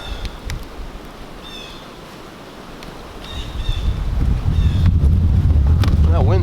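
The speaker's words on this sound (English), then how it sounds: "that wind's really picking up" Strong wind gusts outdoors, roaring and buffeting a microphone in a broadband rush that builds steadily louder toward the end, with a low rumble underneath.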